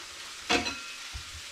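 Thai spiced sausages sizzle in a pan. A brief, close burst of hiss and scraping rises as they are turned, then settles back to a faint, steady sizzle.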